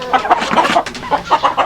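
Brahma chickens cluck close by in a series of short, throaty, repeated clucks in quick succession, loud and clear with no talk.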